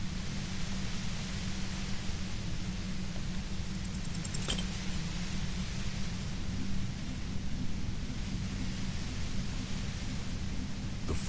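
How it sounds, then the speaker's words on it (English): Violent white noise from the video game Disco Elysium, a steady, dense hiss with a low rumble underneath, loud and unbroken for the whole stretch, with only a faint click midway and no voices. "The violent white noise becomes even more overwhelming"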